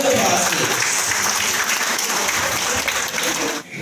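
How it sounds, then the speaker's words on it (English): A crowd at a certificate ceremony during a team-building event breaks into loud, sustained applause that fills the space before cutting off abruptly near the end. "A round of applause, please."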